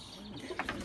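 Street pigeons kept in a loft give a brief, soft cooing and fluttering rustle, close by against a noisy background, lasting under a second with no talking.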